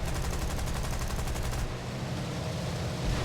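Rapid .303 machine gun fire from an aircraft in a Bomber Command flight game rattles loud and steady, a dense continuous burst that cuts off partway through, leaving engine drone beneath.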